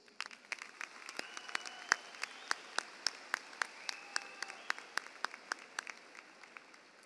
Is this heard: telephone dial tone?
no